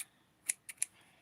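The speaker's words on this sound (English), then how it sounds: "oh, these are the bad scissors" Scissors cut chiffon fabric in three crisp, quick snips, close and fairly quiet, each a short sharp click against a silent background.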